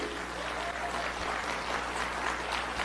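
Dense, steady clapping from a large crowd, heard faint and somewhat muffled as if played back from a recording, continuous with no pauses.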